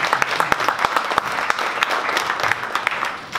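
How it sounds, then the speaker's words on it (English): Audience at a small startup pitch meeting claps for a presenter, a few seconds of moderate applause with some distinct sharp claps standing out near the listener. "Can we get a round of applause for Kyle?"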